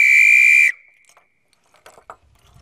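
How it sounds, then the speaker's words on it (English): An Acme Thunderer whistle made in England gives one loud, shrill, close blast lasting under a second, then stops abruptly, leaving faint handling clicks. "this one, which says Acme Thunderer Made in England, seems to be the one that sounds the loudest to me"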